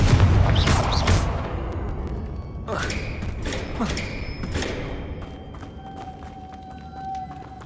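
Confringo blasting spell in Hogwarts Legacy, a loud thudding impact at the start followed by a further burst of crackling blasts and thumps, then fading game ambience with a lingering tone.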